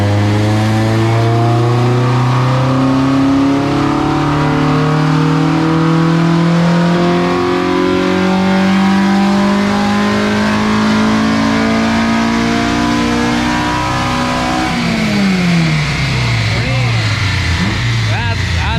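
A tuned, gutted Honda Civic with a swapped K24 engine revs hard on a dyno and climbs steadily in pitch for a long pull, then drops off sharply as the throttle lifts, loud and close.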